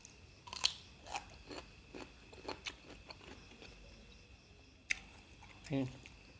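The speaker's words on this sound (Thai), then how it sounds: "แตงก็กรอบดีครับ" Crisp fresh cucumber is bitten and chewed in a series of sharp, close crunches spread over several seconds, quiet and intimate, eaten with tender grilled pork neck salad.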